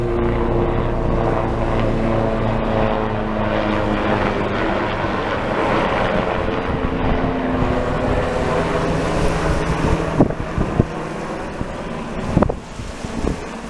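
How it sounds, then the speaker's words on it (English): A rescue helicopter flies overhead at an outdoor mudlarking dig, its steady droning rotor noise loud and continuous throughout, mixed with wind buffeting the microphone and a few brief knocks near the end. "Looks like a rescue helicopter."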